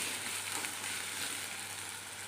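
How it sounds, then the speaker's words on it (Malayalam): Okra sautéing in a pan gives a soft, steady sizzle with a faint background hum, a brief unbroken crackle that cuts off abruptly. "ചുമ്മാ ഒന്ന് വെണ്ടയ്ക്ക മാത്രം ഒന്ന് ഇങ്ങനെയൊന്ന് ജസ്റ്റ് ഒന്ന് വഴറ്റിയെടുക്കുന്നു"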